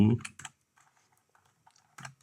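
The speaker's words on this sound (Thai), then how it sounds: "เสียงของแป้นคีย์บอร์ดจะไม่ดังจนเกินไปถ้าเทียบกับตัวเก่านะครับ" Typing on a Nubwo NKB112 wireless keyboard, with a few quiet, scattered key clicks in short bursts separated by near silence, soft and close.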